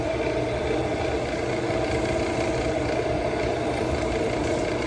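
A wood lathe spins a cedar bowl at about 1200 RPM, giving a steady, loud motor drone with a dense broadband hum and whir that stays constant throughout, no voices.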